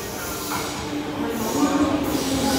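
A train pulling into a curved station platform on the line toward Lok Ma Chau, a loud steady rumble and hiss with a faint rising squeal as the cars roll in close by.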